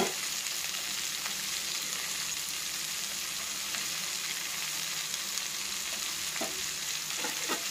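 Finely chopped ridge gourd sautés with garlic in an oiled pan, giving a steady, even hiss with a few soft spoon scrapes near the end, close and moderate with no voices.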